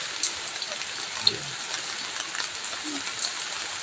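Steady rain hiss fills the clip, a dense even patter with a few louder drops, moderately close and continuous throughout.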